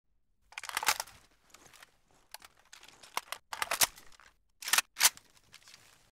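Reload of a Polish faction Beryl rifle in a video game: a sequence of sharp metallic clicks, snaps and rattles in separate bursts, close and crisp with short pauses between actions.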